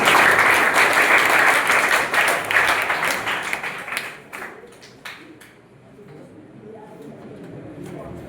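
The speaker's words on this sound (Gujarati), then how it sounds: "આપ સૌ સાહેબને તાળીઓથી વધાવી દઈશું" Seminar audience applauding to welcome a guest onto the stage: dense, loud clapping from many hands that thins out around the midpoint, leaving scattered claps and faint murmur.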